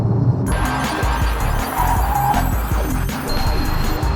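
A standard Porsche Cayman, mid-engined, driven hard through corners, its engine droning loud and close with tires scrubbing and squealing throughout.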